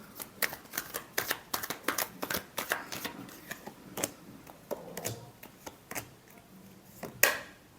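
Tarot cards shuffled by hand during a love reading, a quick run of crisp papery riffles and taps with short pauses, close and fairly quiet with no talking.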